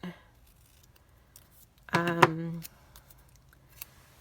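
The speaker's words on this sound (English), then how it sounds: "I'm going to cut this so it looks pretty" Scissors cut paper for a Halloween craft with a short, close snip-and-slide lasting about half a second, set in an otherwise quiet room with a few soft handling clicks.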